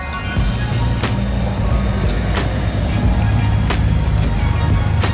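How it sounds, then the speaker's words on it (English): Steady roar of passing cars and trucks on a busy road arriving in Foligno, Italy, with occasional louder vehicle swooshes and sharp clicks close by. "As you can hear, there's traffic, cars."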